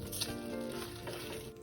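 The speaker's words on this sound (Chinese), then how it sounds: "生姜30克，切片后放入煎香" Sliced fresh ginger fries in hot oil in a wok while making three-cup chicken with taro, giving a steady close crackling sizzle throughout with no talking.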